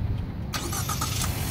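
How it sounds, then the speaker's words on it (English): A 2015 Ford Edge SEL starts by remote start: a sudden engine crank that catches and settles into a steady mid-pitched idle, heard from close by outside the car with no talking. "One of the nice features of this vehicle is remote start."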